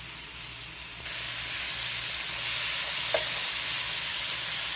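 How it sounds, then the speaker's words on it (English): Mushrooms stir frying in grapeseed oil, a steady close sizzle and hiss that grows slightly louder partway through, with no talk. "then I put my grapeseed oil just for a stir fry"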